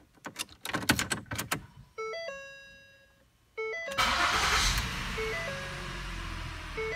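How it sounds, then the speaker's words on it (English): A Ford car engine cranks and starts after a few electronic dashboard chimes, then settles into a steady idle hum with further soft chime tones over it. "Start your car."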